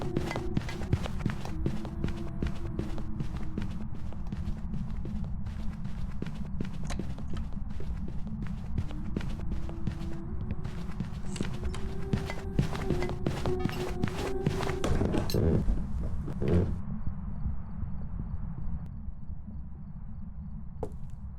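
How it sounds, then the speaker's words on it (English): Ghost footsteps in a ghost-hunting video game, a long run of rapid, evenly spaced thuds over a dense low rumble, fairly loud and near, with sharper knocks late in the run before it thins out. "first thing we're going to listen for is for the footstep speed"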